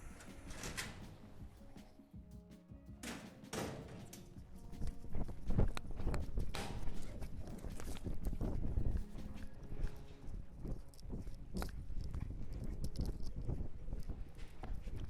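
A green roping horse walks at the back gate of a dirt rodeo arena, its hooves clip-clopping in an uneven rhythm, with tack rattles, distant birds and general arena noise around it.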